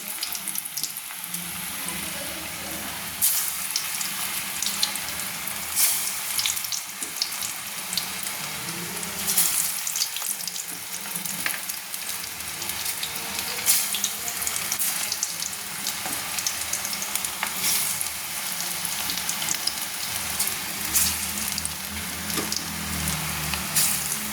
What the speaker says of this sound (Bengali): পাপড়িগুলো ছেড়ে দিয়েছি ভাজা হচ্ছে